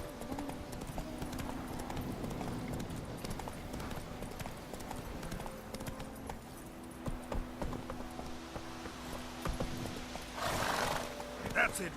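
Roach the horse trots with a steady, close clip-clop of hooves on ground in The Witcher 3, with an occasional whinny and someone talking over it.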